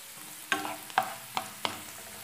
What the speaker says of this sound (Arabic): وكنحرك دائما كنحرك البصل ملي كيتشحر